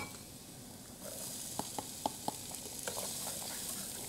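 Onions tipped into a hot pan of browning garlic, breaking into a steady close sizzle with a few sharp crackles and pops rising over the hiss.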